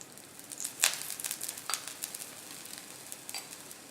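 A rajgira aloo paratha sizzles in an oiled pan, soft frying crackle with a few brief sharper spits and pops, fairly quiet and close.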